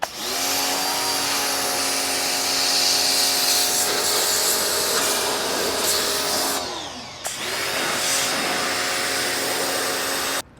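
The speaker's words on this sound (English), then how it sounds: "Now for the inside parts, I would use a power washer." Power washer blasting the drive chain of a Ducati Monster 696 motorcycle, a loud steady hiss and roar with a brief dip near the end before it resumes close by.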